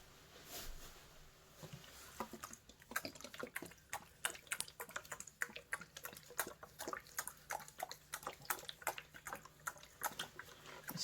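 Water is poured onto dry potting soil mixed with worm castings, making quiet, irregular trickles, drips and small spatters in close succession, soft and near.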